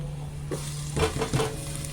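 Garlic added to browned onions in a hot pan for spaghetti sauce: a steady close sizzle of frying, with a few utensil scrapes and stirring taps on the pan.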